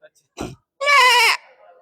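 A human voice imitates a goat's bleat: a short wavering, nasal cry held for about half a second, clearly voiced with a harmonic tremble. It follows a brief breathy sound and then trails off into quieter vocal noise.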